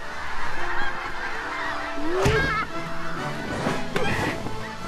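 Cartoon birds in an animated jungle series honk like geese. Several nasal honks with rising and falling pitch stand out from a busy soundtrack.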